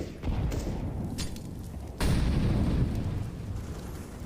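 A grenade explodes in the video game Counter-Strike: Global Offensive, with a sharp broadband boom about halfway through that rises over dense ongoing game noise and a few earlier bursts.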